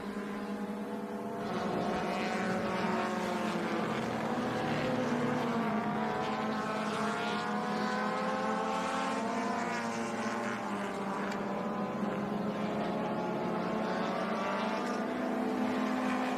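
A vintage race car at the Monterey Reunion at Laguna Seca on its final run down the Corkscrew, engine droning steadily with rising and falling pitch as it passes at middle distance.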